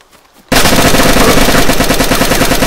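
Sustained rapid automatic gunfire in the DayZ video game bursts in suddenly after a brief quiet moment, loud and continuous with a fast, even rhythm of shots.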